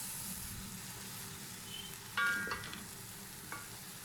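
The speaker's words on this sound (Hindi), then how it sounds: "इन तमाम चीज़ों को हम अच्छी तरह से मिक्स कर 1-2 मिनट तक इनको कुक कर लेंगे।" Soup ingredients with soy sauce are stirred and cooked in a pan while preparing chicken macaroni soup, giving a faint steady sizzle under low background noise, with a brief louder scrape of the spoon midway and another soft clink near the end.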